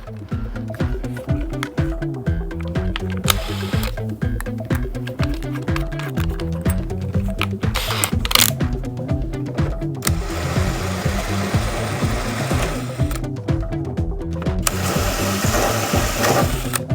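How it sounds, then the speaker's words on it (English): A drill with a step drill bit runs continuously with a loud, steady mechanical buzz, briefly pausing and surging with a hissing edge as the bit cuts through a Cobra replica's body. "Use another one of these stepper drill bits."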